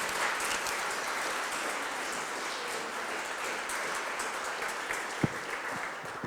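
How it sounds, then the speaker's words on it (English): A reception crowd at an Evaluation Center 50th anniversary gives a round of applause, steady fairly close clapping lasting throughout with a few sharper individual claps near the end. "How about another round of applause for those from the Evaluation Center?"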